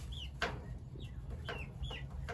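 Chickens in a barn, kept alongside silkies, give a few soft clucks and short calls spread over a couple of seconds, fairly quiet over a steady low background hum.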